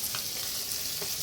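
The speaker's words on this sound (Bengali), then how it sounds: "মাছ ভাজা হচ্ছে।" Fish frying in a pan in a home kitchen, a steady close hiss and crackle of sizzling oil throughout.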